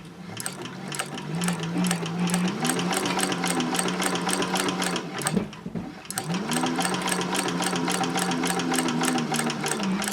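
A sewing machine stitches straight lines on a fabric caddy pocket. A close, rhythmic needle chatter with a humming motor runs steadily, breaks off briefly midway, then resumes at the same even pace.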